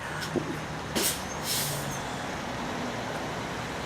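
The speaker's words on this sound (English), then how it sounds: "Okay, there's the air brake." Yellow school bus air brake releasing as it stops for pickup: a brief, sharp hiss of escaping air following a couple of quick clunks, set against low roadside traffic rumble.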